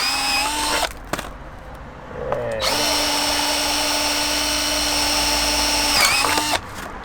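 A power drill whirs in two bursts while drilling an 8mm hole for an Audi S3 8P rear side splitter, a short one then a longer steady run of several seconds, close and loud, with pauses between.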